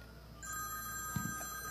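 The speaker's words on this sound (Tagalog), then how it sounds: "Kaninong telepono yung nag-ring?" A telephone rings on a variety comedy show set, thin steady electronic ringing tones that enter after a short pause and carry on alongside a brief low thump, with no voices.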